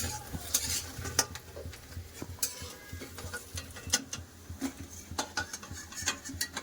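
Lentil fritters fry in hot oil with a steady crackling sizzle, broken by frequent sharp clinks and scrapes of a utensil against the pan.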